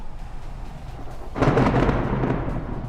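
A thunderstorm effect in a dark fantasy audio drama: after quiet low rumble, a loud broadband crash of thunder bursts in and rolls on as a sustained roaring storm to the end, with no voices.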